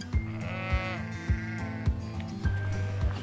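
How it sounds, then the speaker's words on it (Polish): Sheep bleat repeatedly out in the Icelandic countryside, several wavering calls following one another at a steady pace, fairly close and clear over a soft background. "Nieodłącznym elementem islandzkiego pejzażu na całej wyspie są owce i kozy."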